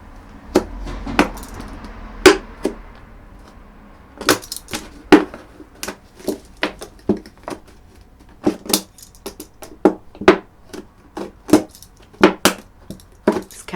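A knife cuts drainage holes in a plastic supermarket milk bottle, giving a series of sharp, close cracking and snapping bursts in an irregular rhythm with brief quiet gaps.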